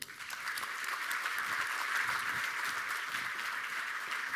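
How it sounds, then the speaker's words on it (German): Audience applause at a poetry slam, a steady, dense wash of clapping from a crowd that holds at full strength throughout. "begrüßen Sie mit einem herzlichen Applaus unseren ersten Slam-Teilnehmer"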